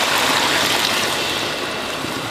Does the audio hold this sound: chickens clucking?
no